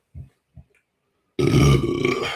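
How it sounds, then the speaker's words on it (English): A forced burp: two soft short grunts, then a loud, long, rumbling belch that rolls on for about a second, close and alone. "I can force burps"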